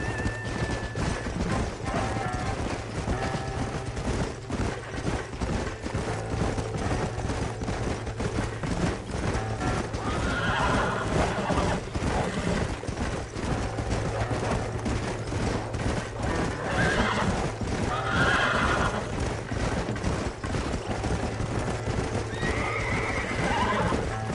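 Horses in a PS5 video game, hooves clopping in a fast continuous rhythm with repeated neighs and whinnies rising over the gallop, loud and close, with a brief burst of gunfire-like crashes and no clear talking.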